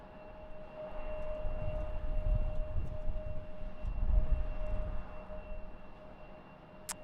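A departing airliner at Raleigh-Durham International Airport, its low engine rumble swelling and fading at a distance over a steady background hum, with no talk.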